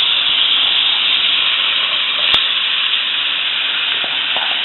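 Shrimp hitting a hot skillet for tacos, giving a loud, dense, unbroken hiss of sizzling that holds steady throughout with no voices.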